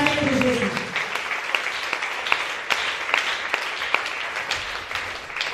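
A church congregation applauds for Jesus during a testimony service, with sustained clapping and sharp individual claps throughout, loud and close, while a voice talks over it.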